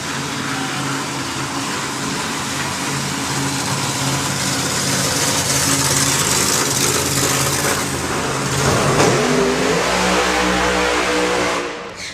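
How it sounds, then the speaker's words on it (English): Nitro supercharged dragster at a hot rod drag racing meet, a loud sustained engine roar that builds and shifts pitch near the end before cutting off, with no voices. "What you have to consider with this dragster, yes, it's nitro, yes, it's supercharged"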